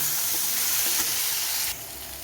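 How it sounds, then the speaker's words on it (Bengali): Garlic and potatoes sautéing in a pan for an egg-and-potato curry, a steady close sizzle with faint stirring scrapes, dropping to a quieter fry near the end. "রসুনটাকে একটু আলুর সাথে কষিয়ে নিই, যাতে রসুনের গন্ধটা না থাকে।"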